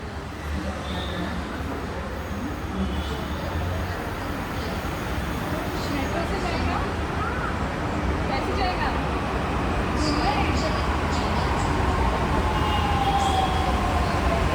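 A Mumbai metro train carries riders, its steady rolling rumble and hiss continuous throughout and swelling slightly near the end, with people talking in the carriage.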